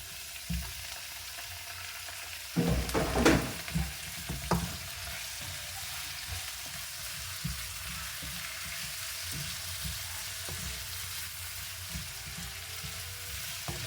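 Tomatoes hit a pan of frying native chicken, giving a loud burst of sizzle and stirring clatter that then settles into a steady, softer crackle of frying.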